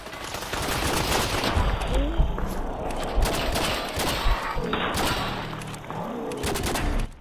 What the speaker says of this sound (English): Give me my laser pistol.